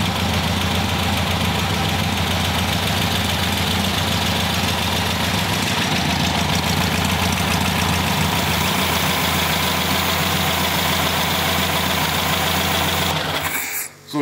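A rebuilt VW Beetle engine idles steadily and loudly close by, its even rumble running unbroken until it cuts off abruptly near the end, with a voice speaking over it.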